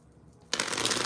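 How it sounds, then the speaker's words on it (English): Tarot card deck being shuffled, a sudden burst of rapid riffling card flutter that starts after a quiet moment and continues loud and close to the end. "I don't like the way it's shuffling."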